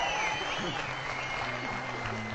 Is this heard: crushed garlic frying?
no